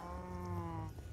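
A single drawn-out cow moo from Minecraft Skyblock, a steady tonal low groan with stacked harmonics lasting about a second, close and clear with no talk over it.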